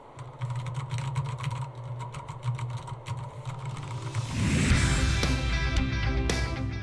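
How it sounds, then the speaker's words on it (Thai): Rapid computer keyboard typing picked up by a Thronmax Fireball USB condenser microphone, dense clicking keystrokes, continuous and fairly close, growing busier and louder toward the end over a low background hum. "ลองกดคีย์บอร์ดดูว่าเสียงมันจะเข้ามากน้อยแค่ไหนนะครับ"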